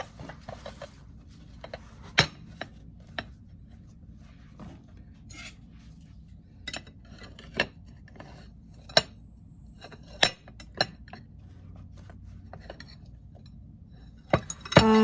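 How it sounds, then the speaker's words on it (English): A ceramic mini loaf pan clinks as it is set onto a dish and then a wire rack, giving sharp, scattered knocks and chinks at close range among quiet handling sounds, with no talking. "I usually put it on a dish to get it out, and then I put it on a wire rack."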